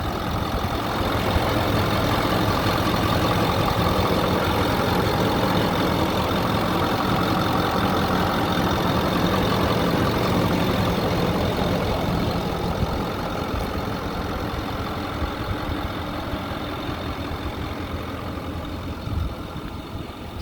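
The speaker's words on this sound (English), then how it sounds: "here's a walk around of the 2008 F350 dump truck. Engine operation." A 2008 Ford F350 XL 4x4 diesel dump truck idles steadily nearby, a continuous rough engine drone that eases slightly toward the end, with no voices.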